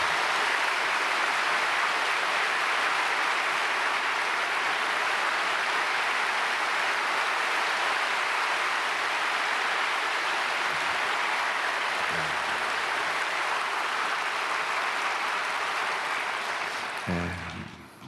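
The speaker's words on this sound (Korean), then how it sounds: "목사님 앞으로 나오실 때 우리 감사의 마음을 담아서 박수로 환영하겠습니다." A large church congregation at a Sunday worship service applauds to welcome the pastor, loud, dense clapping that holds steady for a long stretch before tapering off at the very end.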